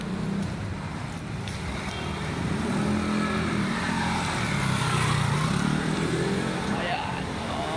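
A delivery truck engine runs steadily at a loading stop, a continuous low rumble with road traffic noise around it and people talking nearby.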